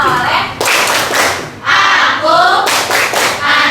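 Children clap in rhythmic bursts during the tepuk anak soleh chant, with groups of sharp claps broken by short pauses and voices chanting along.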